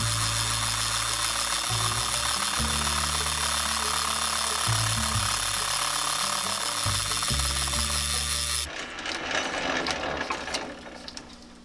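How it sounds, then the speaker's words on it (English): A metal lathe takes a thin skim facing cut across a band saw plate, a loud steady machine drone with intermittent chattering pulses that cuts off into quieter workshop noise near the end. "One thin skim cut ought to take care of it."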